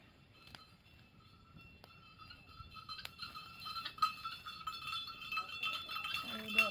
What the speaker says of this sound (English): And you can hear the bells, that means the cows are coming home, or the goats.